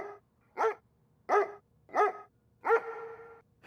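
A dog barks four times in a steady rhythm, close and loud, the last bark drawn out into a short whine, with no talk over it.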